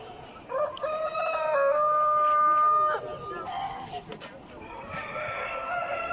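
A rooster, an Australorp cockerel, crows one long loud call at a national poultry exhibition hall, with a crowd murmuring and other birds calling faintly around it.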